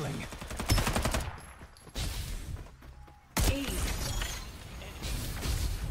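Loud bursts of automatic gunfire and impacts in the Farlight 84 battle game, several volleys separated by short lulls, with a voice briefly audible among the shots.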